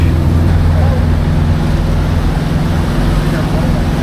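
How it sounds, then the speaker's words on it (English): A motorboat engine rumbles loud and close, a steady low drone with no pauses, as the boat slows while fishing for bluefish. "Boat's slowing down"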